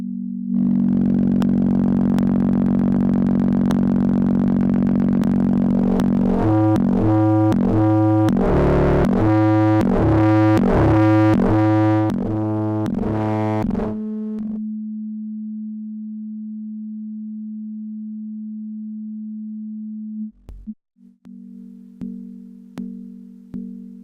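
Joranalogue Collide 4 modular synthesizer with its outputs switched by a scanner, giving a steady pure tone that breaks into stepping, pulsing harmonic patterns, then settles back to a single drone, drops out and returns in stuttering bursts.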